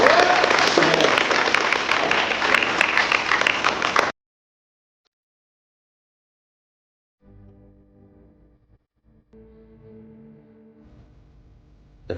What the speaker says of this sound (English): another round of applause for our director here.